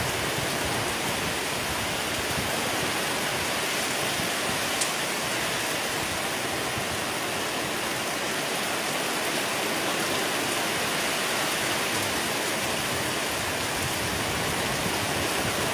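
Heavy rain lashes down in the Sundarbans as the wind rises, a loud, continuous roaring wash that holds steady for the whole stretch, with one brief sharp tick partway through and no voices.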